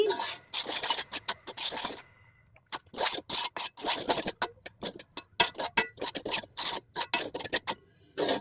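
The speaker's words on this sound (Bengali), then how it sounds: "শুকনো চালের গুঁড়ো তো তাই আমি সাথে সাথে নেড়ে দিচ্ছি" Dry rice flour being stirred and scraped in a pan for pitha, with repeated rhythmic rasping strokes, close and fairly loud, and a brief pause partway through.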